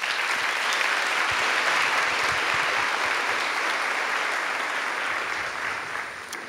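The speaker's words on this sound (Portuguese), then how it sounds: "Merece uma salva de palmas." A large audience claps in a dense, sustained ovation at a religious gathering, loud and steady for several seconds before slowly thinning out toward the end.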